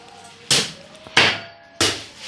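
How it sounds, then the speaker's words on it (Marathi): Sugarcane fodder is chopped by hand into pieces for cattle: three sharp, heavy chopping strikes land at an even, unhurried rhythm, close up, each a loud thud with a quick decay, and no talking. "कुट्टी मशीन नाही आमच्याकडे, तर हातानेच चालू आहे।"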